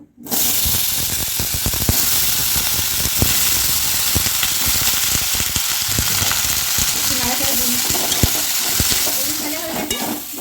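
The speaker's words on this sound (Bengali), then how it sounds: "আমি বেগুন ভেজে নেব।" Eggplant frying in hot oil makes a loud, dense, continuous sizzle with frequent crackles and spatters, plus occasional stirring scrapes in the pan throughout.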